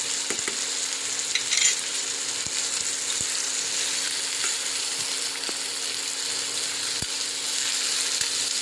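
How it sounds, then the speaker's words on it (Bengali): Papaya and potato frying in a pan for a Bengali pepper dish, a constant bright sizzle held close and even, with a few sharp clicks of a spatula against the pan and no talking. "এবার এই পেঁপে আর আলুটাকে ভালো করে ভেজে নেব।"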